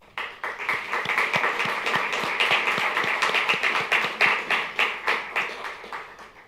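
Audience applause at a Daytona Beach State of the City address, a steady wash of many hands clapping with distinct sharp claps standing out, loud and sustained throughout before thinning slightly at the end.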